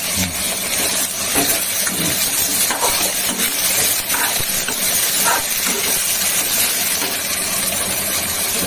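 Boiled potatoes fry in a pan with a loud, dense, steady sizzling hiss that fills the whole stretch without pause, close and unbroken, with no talking.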